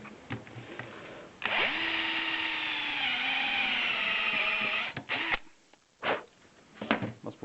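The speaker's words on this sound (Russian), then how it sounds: "этот набор просто в один этап можно сразу вырезать отверстие и вот это место, куда пойдет пробочка" Power drill fitted with a combined plug cutter bit boring a screw hole and plug seat into wood, a steady high whine lasting several seconds under load, then winding down into a few short bursts and handling clatter.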